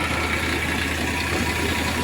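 A tractor engine runs steadily during millet harvesting, a continuous low idling rumble with broadband mechanical noise that holds even and close throughout, with no speech.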